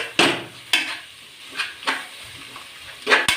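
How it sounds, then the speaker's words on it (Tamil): Curd is stirred into biryani masala in a pan, with five or six distinct spoon scrapes against the metal at uneven intervals over a soft sizzle, close and clear. "தயிர் ஆட் பண்ணிவிட்டு வந்து நல்லா வந்து மிக்ஸ் பண்ணி விடணும்"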